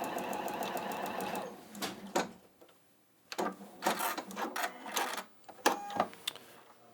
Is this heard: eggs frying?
no